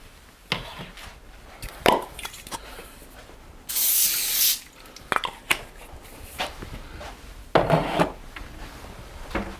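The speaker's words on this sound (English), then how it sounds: "I'm going to give it a little squirt of baking spray." A short hissing burst of baking spray sounds once, amid scattered knocks and taps of objects being handled nearby.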